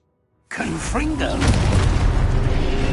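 A Confringo fire-blast spell explodes in Hogwarts Legacy after a moment of silence, a sudden loud boom with whooshing, shattering magical crackle that rolls on into a sustained rumbling roar.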